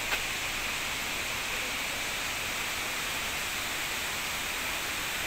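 Klong Lan Waterfall in Thailand sends a steady, loud roar of rushing water that stays even and unbroken throughout, with no voices.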